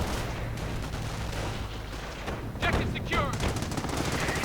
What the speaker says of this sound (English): Airborne getting gunned down while the heavy machine gun opens up with armor-piercing rounds